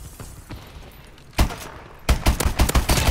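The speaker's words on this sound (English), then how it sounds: "I'm on a 3-kill streak with this lever action rifle" A lever-action rifle fires loud, sharp cracks in Call of Duty Advanced Warfare. One shot rings out alone, then a quick volley of close, punchy shots follows over faint background game noise.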